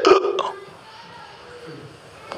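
A voice imitates the loud hiccup of a dying person, a single forceful burp-like gulp at the start that fades into a quiet, breathy tail, heard alone with no other talk.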